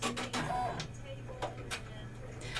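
Embroidery machine running at the back of a room, a steady mechanical hum with rapid repeated ticking and a few sharper bursts of stitching noise, fairly distant.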